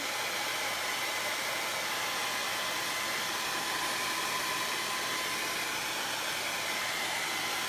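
A hair dryer blows steadily and loudly to dry paint on a craft artwork, a continuous broadband whoosh that holds unbroken with no voices.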